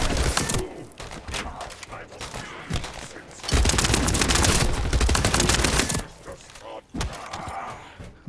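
Gun fire from The First Descendant, with sharp repeated shots and a long, loud, continuous stretch of rapid automatic fire in the middle, close and punchy, followed by a few scattered reports.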